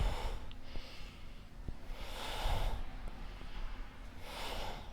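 Yoga breathing, slow inhales and exhales through the nose, soft airy breaths rising and falling in a steady rhythm, close and quiet.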